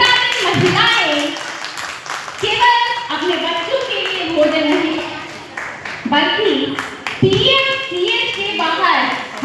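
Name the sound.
audience clapping at a political speech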